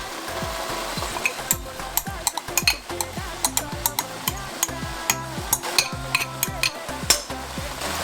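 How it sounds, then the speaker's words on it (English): A spoon stirs a no-oil spinach, tuna and peanut butter stew in a pot, making quick repeated scraping clicks over a low bubbling sizzle, with music underneath. "Let's stir it."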